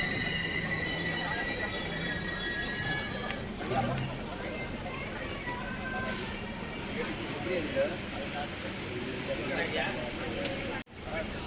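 Pallavan Superfast Express train at Lalgudi station, a steady rumble of rolling stock with faint wheel squeal, continuous and fairly near throughout, with a voice talking over it.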